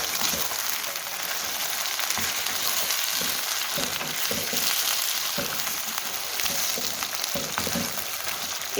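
Chicken for charsi chicken karahi fries steadily in hot oil in a covered pan over medium flame, a loud continuous sizzle with occasional soft stirring scrapes and no talking.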